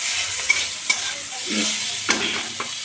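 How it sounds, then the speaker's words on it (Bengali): Potatoes and flat beans fry with turmeric in a pan, giving a steady close sizzle broken by a few sharp scraping stirs of a spoon. "আলু সিম ভাজার সময় এক চামচ লবণ দিয়ে দেবো"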